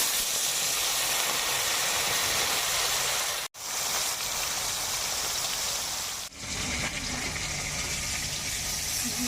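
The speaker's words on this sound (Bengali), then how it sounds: "তেল গরম হয়ে গেছে, এখন আমি কড়াইতে মাছগুলো ছেড়ে দেব।" Lote fish frying in hot oil gives a loud, dense, continuous sizzle like heavy rain, broken by two brief drops, close to the pan with no talk.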